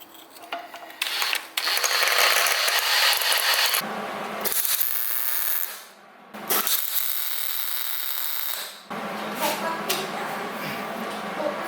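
A power drill whirs in several bursts, drilling out a stripped screw on an Atlas 4200, starting and stopping with short pauses between runs, close and fairly loud.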